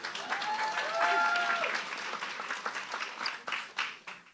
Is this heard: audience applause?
yes